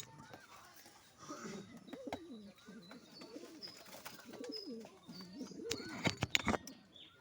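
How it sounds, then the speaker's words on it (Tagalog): Soft, low cooing from two blue bar pigeons repeats in gentle rolling phrases, with a few sharp clicks and rustles toward the end. "Ayan po yung dalawang kalapati ko."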